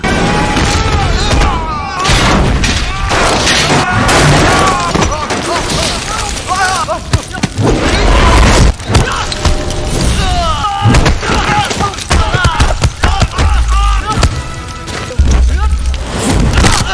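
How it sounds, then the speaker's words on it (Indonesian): Loud, dense explosions and booms from an action film's soundtrack roll on almost without a break, layered with gunfire-like bursts, impacts and mechanical noise, heard up front. "Nate meledakkan sekitarnya."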